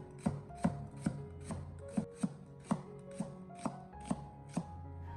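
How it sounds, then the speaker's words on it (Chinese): A knife cuts half an onion into strips on a cutting board, about a dozen sharp, evenly spaced chops close by, with no one speaking. "紧接着再将其改刀切成洋葱丝"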